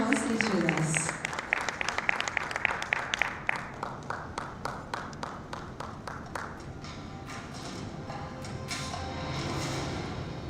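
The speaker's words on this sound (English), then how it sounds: "Let's give him a huge round of applause." An audience at a bicycle launch event applauds as a guest is called on stage, starting with a burst of cheering and clapping, then settling into rhythmic unison clapping that fades into a lighter murmur.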